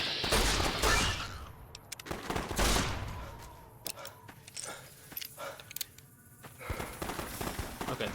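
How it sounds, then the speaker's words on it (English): Gunfire rattles in Fallout: New Vegas as characters shoot at animals, a mix of sharp single shots and rapid bursts scattered through the clip against game ambience. "they're busy shooting the animals now"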